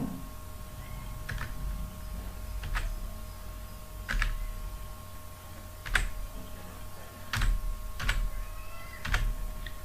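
Fingers tap a computer keyboard in sparse, separate keystrokes roughly a second apart, some clicks louder than others, over a faint steady electrical hum.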